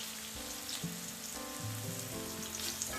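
Vegetables including carrots stir-fry in oil for garlic vegetable fried rice, a faint, even sizzle holding steady throughout with a steady low hum behind it.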